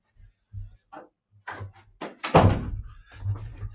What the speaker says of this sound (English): somebody's knocked my door